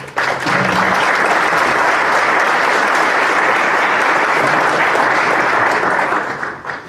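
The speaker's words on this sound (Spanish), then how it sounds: "Por favor, les pido un voto de aplauso." An audience at a formal judicial event in Peru applauds loudly and steadily for almost seven seconds, a dense wash of many hands clapping together that fades slightly at the end, with no speech over it.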